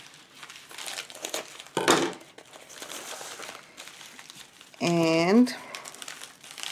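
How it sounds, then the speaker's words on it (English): Paper envelope being opened and crinkled, a short rustling burst mid-clip amid soft handling noise, with someone speaking briefly before and after. "I'm going to open the envelope"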